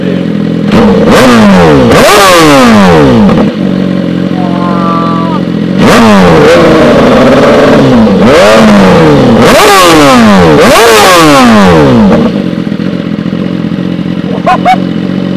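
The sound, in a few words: BMW S1000RR motorcycle engine revving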